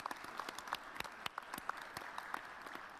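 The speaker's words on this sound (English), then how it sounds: "So can we have a warm round of applause for all of our panelists?" An audience at a panel session on transport resilience claps, with dense, fairly faint applause and individual claps standing out, no speech over it.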